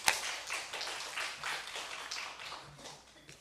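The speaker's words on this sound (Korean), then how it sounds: "하나님께 영광의 박수 돌리겠습니다." A church congregation at a Sunday worship service claps in praise, a soft, fairly distant patter of hands that swells and fades in waves and trails off toward the end.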